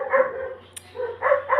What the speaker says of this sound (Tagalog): Ang ingay ng mga aso guys,